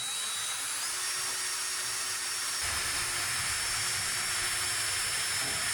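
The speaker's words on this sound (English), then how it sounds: "Drill all the way through with a small bit" A drill with a small bit whines steadily and continuously as it bores all the way through wood on a wheelbarrow, close and fairly loud, with no talking.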